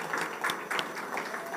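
Soft, steady audience applause at an international trade seminar, greeting a deputy director of the central bank; a dense patter of many hands clapping at a distance, fairly faint, with no voices over it.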